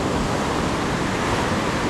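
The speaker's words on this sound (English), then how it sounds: "This is just the waves hitting the loop in the line." Ocean waves on a beach at low tide wash steadily against a fishing line, a constant loud broadband rush with wind buffeting the microphone, no talking.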